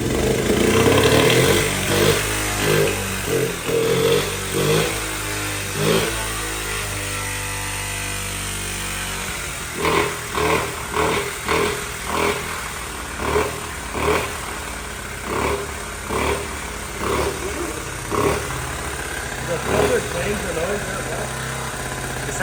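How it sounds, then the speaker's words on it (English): A Honda Z50 chopper motorcycle's small engine cranks and sputters before catching and running in uneven, pulsing bursts, heard up close with people talking over it. "we're going to try to crank it again."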